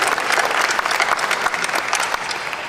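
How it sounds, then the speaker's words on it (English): Audience applause fills the room at a Daytona Tea Party convention as a panel is honored: a dense, steady clapping of many hands, loud and close, running unbroken throughout. "Will we please have a nice round of applause for my panel"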